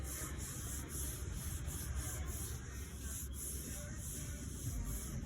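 Soft, steady rubbing of a hand over a painted and glazed motorcycle fuel tank during block sanding, a quiet continuous swishing with light periodic strokes.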